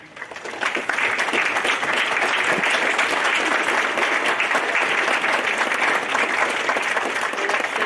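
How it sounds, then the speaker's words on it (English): Loud applause at a junior high and high school awards ceremony for the robotics team, building quickly from a quiet start into dense, sustained clapping from a large crowd. "give you a round of applause for all of your hard work"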